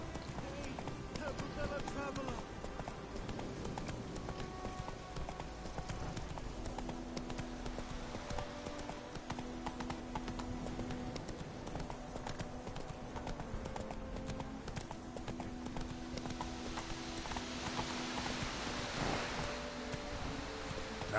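Roach the horse gallops in The Witcher 3, with steady, rapid hoofbeats running the whole way through, close and prominent over a bed of game ambience and background sound.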